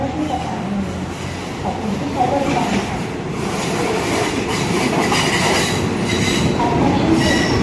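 A train rolls through Taling Chan junction station in the evening, a loud continuous rumble of wheels on rails with clattering and metallic squeal building steadily.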